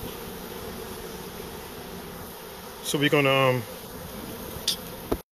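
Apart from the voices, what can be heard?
honey bees inside a hive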